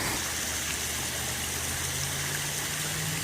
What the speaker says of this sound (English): it's going down this little creek